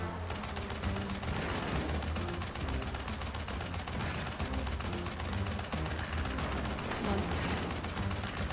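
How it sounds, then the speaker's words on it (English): Rapid gunfire from the Crash Bandicoot: Warped video game rattles on without pause, dense and loud shooting layered over a thumping game soundtrack. "I'm sorry for the ear rape that is the sound of this shooting."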